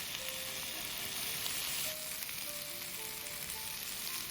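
Potato pieces fry in a hot pan for chicken and potato curry, giving a steady, close sizzle with light crackle that holds throughout, with no talking.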